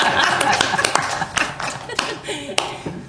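People at a county planning meeting clap as someone enters the room, producing sharp, scattered claps and taps over chatter and light laughter.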